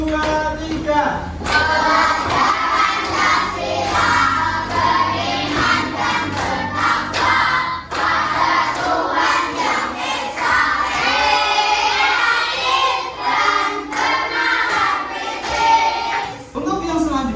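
Children in a classroom clap their hands in rhythm while singing loudly together, the claps mixed densely into the chorus of young voices throughout.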